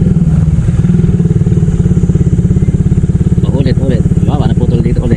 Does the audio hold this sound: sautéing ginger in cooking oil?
no